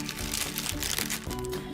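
A small plastic bag holding the sink adapter for an RCA compact portable mini washing machine crinkles briefly and loudly right up close, a dense, continuous rustle.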